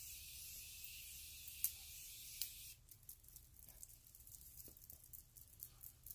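A fine mist of makeup setting spray hisses in a continuous burst, then stops, followed by faint scattered clicks and rustles close by.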